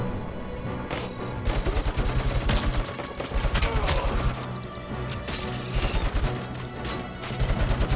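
Heavy machine gun fire from Robocop Rogue City, with rapid bursts crackling over crashes and impacts in a chaotic firefight, loud and sustained, with recurring pulses of shots throughout.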